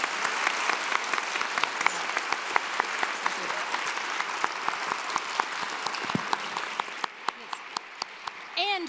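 Sustained audience applause after an evening talk, steady and fairly loud across the room, thinning toward the end as a few louder claps stand out and faint voices murmur beneath.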